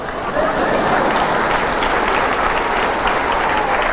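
A live audience at a talk by a Catholic friar breaks into steady, dense applause that sets in sharply and holds at full strength throughout, with no voices over it.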